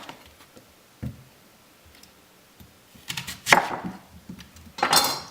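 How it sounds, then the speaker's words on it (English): Peeled onions cut in half with a knife on a board, a few soft taps early, then two louder crisp knife strokes through the onion near the end, close and alone. "I'm just going to peel them and cut them in half."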